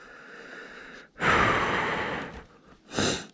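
A mountain biker on a beginner trail loop breathes hard after a climb, with one long loud exhalation followed by a shorter sharp breath, close and alone.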